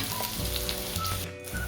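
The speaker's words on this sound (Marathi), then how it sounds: "कांदा गुळधर रंगावर परतून घेऊया आपण।" Chopped onion sautéing in oil in a pan with curry leaves until golden, a steady close sizzle and frying hiss running continuously with faint stirring.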